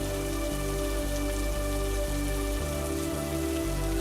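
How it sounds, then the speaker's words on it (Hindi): Steady rain falls on a surface, making a constant close hiss that never breaks or swells. No one speaks. "ऊपर से बारिश भी होने लगी"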